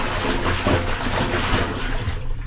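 Water sloshes back and forth inside a closed beach dry bag of laundry, a continuous rushing swish as it is shaken rhythmically, close by.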